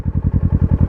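Kawasaki Versys 650 motorcycle engine idling just before shutoff, a close, loud, even chugging pulse with about ten regular beats in under a second.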